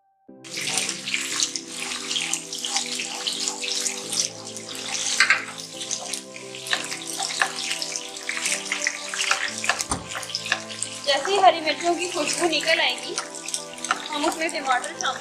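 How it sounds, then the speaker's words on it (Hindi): Chopped green chilies hit hot ghee and oil in a pan, giving a steady crackling, hissing sizzle with sharper pops later on, heard close. "ये घी ऑयल गर्म हो गया है, अब हम इसके अंदर डाल रहे हैं 3 से 4 हरी मिर्चें कटी हुई।"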